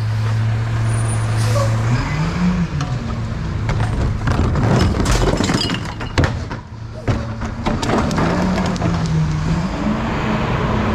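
Recycling pickup truck with air brakes idling loudly close by, its engine drone rising and falling, with hissing bursts and clunking thuds from the mechanism, while people talk briefly over it.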